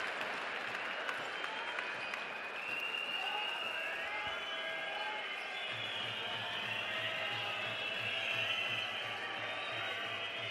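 Arena crowd at a women's EuroLeague basketball game between Casademont Zaragoza and Valencia Basket in the Prince Felipe pavilion, a steady roar of cheering and applause filling the whole clip, with a sustained horn-like tone joining partway through.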